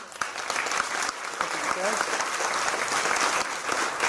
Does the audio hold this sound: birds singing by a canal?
no